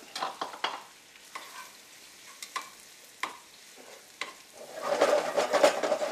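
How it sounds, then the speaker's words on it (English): Chopped onions and shrimp sauté in a pan for Cajun pasta: light spatula taps and scrapes at first, then the sizzle swells louder and steadier toward the end, with no talking. "Just going to go ahead and saute this guy down."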